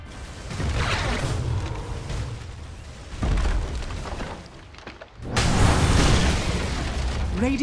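A tower collapsing in the Dota 2 video game, heard as loud booming, crumbling bursts that come in waves: one at the start, another about three seconds in and the strongest after five seconds, over a dense game soundscape.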